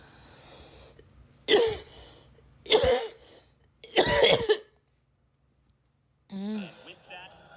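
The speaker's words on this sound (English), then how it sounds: "why am I coughing?" A commentator coughs during a Call of Duty: Warzone championship costream, three separate harsh bursts spaced about a second apart, close and fairly loud, followed by a short stretch of quiet and then the voice resuming.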